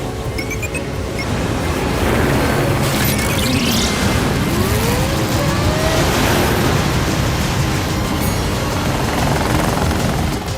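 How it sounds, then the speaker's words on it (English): A loud, continuous engine roar fills the scene as an aircraft engine fires up and revs, a dense, steady whirring with rising whines layered over rushing noise, no voices. "Get that engine fired up!"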